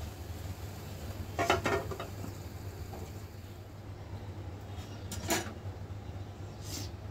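A lid goes onto a pot of cooked sticky rice with a couple of brief metallic clanks, one early and one later, over a steady low kitchen hum.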